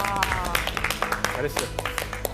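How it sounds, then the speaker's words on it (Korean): A studio panel on a Korean TV history show claps in short, scattered bursts, the sharp hand claps mixed under close conversational talk. "여기서는 박수를 쳐야 될 것 같은데."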